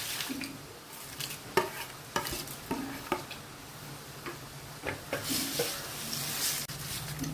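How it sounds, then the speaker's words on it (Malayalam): Fried papadum stirred into fried onion and chili powder in a pan: irregular spoon scrapes and clicks over a faint, steady sizzle, fairly quiet and close. "അതിനകത്തോട്ട് നമ്മുടെ വറുത്ത പപ്പടം ചേർക്കുകയാണ്"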